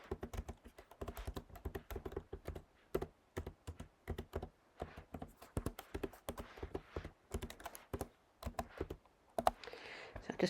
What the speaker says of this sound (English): And I'm just going to type the alphabet.